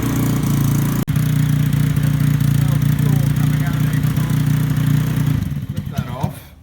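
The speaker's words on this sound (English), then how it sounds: "let it warm up on the mixture enricher a little bit, and then we'll turn it off and kind of speed the idle up a little bit so it doesn't die" A trike engine idles on its mixture enricher while warming up, a loud, steady, close rumble with one sharp click early on, before the running fades and stutters near the end.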